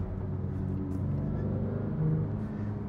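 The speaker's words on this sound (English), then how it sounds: "That flat six." Porsche 992 GT3 Touring with its flat-six engine, a steady deep rumble and drone heard from inside the car while driving, continuous and fairly loud with no talk.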